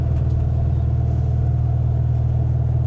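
A car engine idles and rumbles steadily at close range, a continuous low drone with no clear rev as it pulls away.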